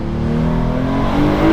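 A 2025 Porsche 911 Carrera T's engine revs hard toward its 7,500 rpm limiter, a loud, close, rising mechanical wail that climbs steadily in pitch.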